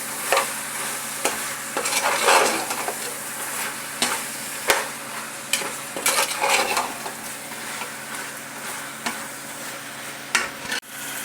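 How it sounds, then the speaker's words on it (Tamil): A spoon or ladle stirs tomatoes in a pan while making mutton biryani, with steady scraping and light sizzling. It is close and continuous, with sharper clatters against the pan and no talking. "அப்புறம் தக்காளி இதை நல்லா மிக்ஸ் பண்ணி"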